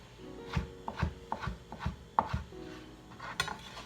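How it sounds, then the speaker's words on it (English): A knife cutting mango flesh into chunks on a board, about ten close, light chops in an uneven rhythm, each a soft knock with a slight scrape, alone and fairly quiet. "This then gets cut up into chunks."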